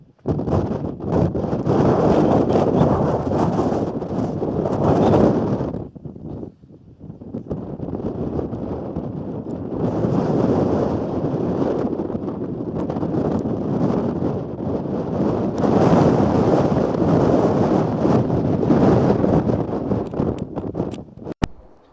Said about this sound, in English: you can get an idea of how windy it is.